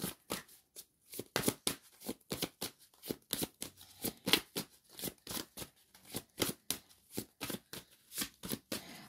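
Large oracle cards are shuffled by hand in a quick, regular series of crisp riffling bursts that repeat steadily throughout, close and fairly loud, with no talking.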